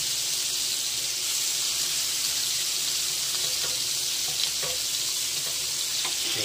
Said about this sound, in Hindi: मच्छी फ्राय, मच्छी फ्राय.